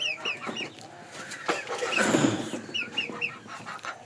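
Two desi roosters cluck in repeated short bursts close by, a rhythmic series of calls with a brief louder rustle in the middle.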